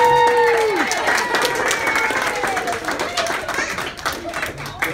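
Wedding guests applaud Darren in a hotel function room, a sustained crowd clapping that begins beneath a sliding musical tone and fades slightly as it goes on.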